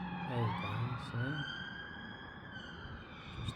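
Police sirens wailing in a street in London's NW8 area, a rising and falling siren tone sweeping steadily over traffic, fairly close and clear, with a brief burst of talking near the start.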